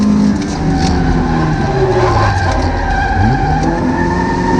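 A Toyota Corolla AE86 drifts with loud, continuous tire squeal and engine drone, the skidding close and sustained throughout with rising and falling pitch.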